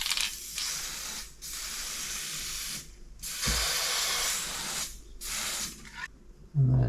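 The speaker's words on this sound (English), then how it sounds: "So I've got a bit of WW Scenics layering spray." An aerosol can of WW Scenics layering spray hisses in several long bursts, close and loud, separated by brief pauses, ending with a short low rattle.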